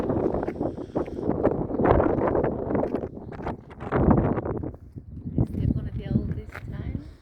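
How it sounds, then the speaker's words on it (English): Strong wind buffets the microphone atop a hilltop fortress in Croatia, a continuous rough rumble under a person talking almost throughout. "if you can hear me because of this wind"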